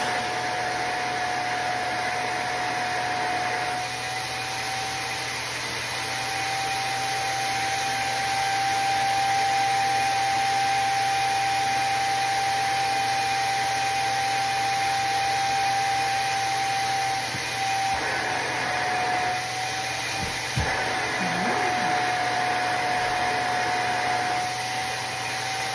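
A vacuum cleaner sucking dirt from a couch during deep cleaning, a loud steady motor whine with a constant high tone running throughout, close and unbroken, with slight shifts as the nozzle moves.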